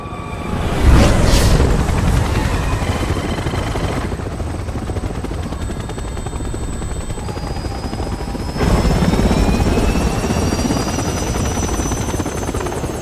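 A loud, steady helicopter rotor roar in the video game Resident Evil 6, with whining engine tones rising in pitch, broken by a sudden heavy boom and a surge in intensity.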